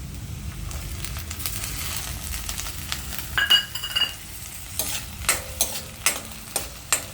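Chopped onion sautéing in a pan over a low gas flame for kande pohe, a soft continuous sizzle broken by several louder scraping stirs of a spoon in the second half, close by with no talk.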